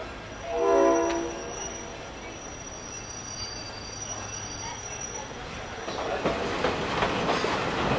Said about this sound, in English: And the train's right over there.